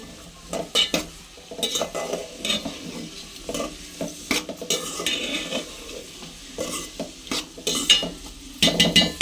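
Pieces of meat and onion fry in oil and are stirred repeatedly, each stir bringing a bright metallic scrape of a utensil against the pan over a constant sizzle.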